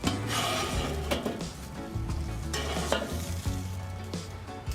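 A tomahawk steak sizzles and fries steadily in a hot pan with avocado oil, with a few scrapes and knocks of utensils against the pan.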